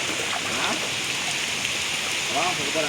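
Heavy downpour pours steadily in a continuous, dense hiss with no pauses, while a faint voice talks underneath.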